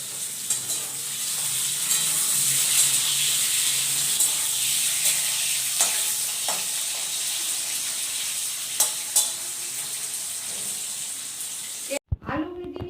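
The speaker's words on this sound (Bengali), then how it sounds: "আলু ভেজে নিয়েছি, মূলোটা ভেজে নিলাম।" Radish pieces fry loudly in a pan, a bright, constant sizzle with scattered clinks of stirring, before an abrupt cut to a short burst of different noise at the end.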